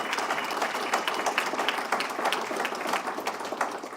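An indoor audience at a Hall of Fame induction ceremony claps steadily, a dense, even round of applause filling the room.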